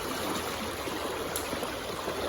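Creek water splashing and rushing steadily as someone steps up through a flat, rock-cut creek bed, a continuous close wash with no talk over it.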